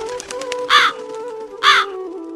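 A crow in a Hindi cartoon caws twice, loud harsh calls spaced about a second apart, over a sustained musical tone.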